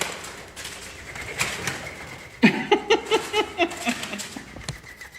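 Pigeons coo in a run of repeated, close, throaty calls after a quieter opening, inside a building at a former RAF base where one bird had been trapped overnight; no talking is heard.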